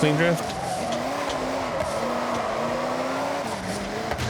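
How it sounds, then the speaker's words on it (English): Car drifting in a video game, with its engine droning steadily and tires squealing in wavering pitch throughout, loud and close, alongside a faint voice. "oh, that's clean drift"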